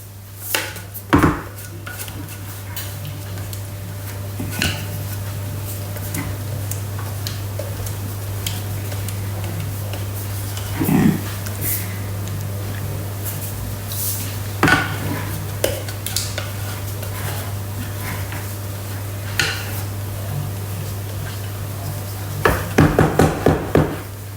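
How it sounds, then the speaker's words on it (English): A spatula scraping down the inside of a Thermomix bowl while making tomato and chilli jam: scattered knocks and scrapes against the bowl, with a clattering burst near the end, over a steady low appliance hum. "I'm going to scrape it down."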